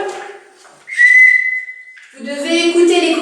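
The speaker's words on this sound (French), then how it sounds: "avec le sifflet, quand je siffle," A yoga teacher blows a sharp whistle in a children's yoga class, one sustained bright blast of about a second, set between stretches of speech.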